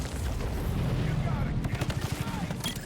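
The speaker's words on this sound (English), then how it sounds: "Grenade going out." Grenade blasts and gunfire from the video game Borderlands 4 fill a dense, chaotic battle, with a rapid run of pulsing explosive bursts toward the end, loud and continuous throughout.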